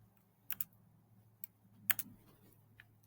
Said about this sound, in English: type in our product, go to images